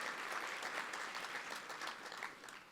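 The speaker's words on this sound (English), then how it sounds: "could you give Rob Portman another round of applause" Sustained audience applause at a trade policy annual dinner, a dense steady wash of many hands clapping at moderate distance, lasting throughout without pause.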